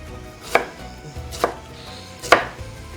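A knife chopping half an onion into small cubes on a cutting board, three distinct sharp thuds spaced about a second apart, close and clear, with no voices.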